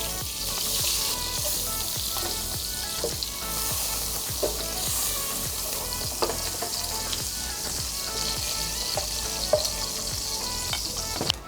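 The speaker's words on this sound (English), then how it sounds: "I am dipping the bread into the beaten egg and I'm putting it into the pan." Egg-dipped bread slices fry in butter in a pan over a low flame, giving a steady close sizzle with faint crackles and occasional light clicks as pieces are turned, no voices.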